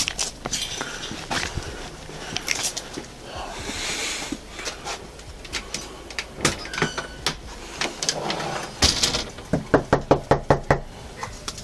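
Police officers knock on a house door, scattered sharp raps among shuffling movement and faint background noise, ending in a clear run of about eight quick, evenly spaced knocks close by.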